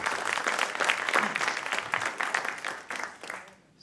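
An audience at a Sunday church service claps for the band, a short burst of dense applause that swells and then tapers off within a few seconds.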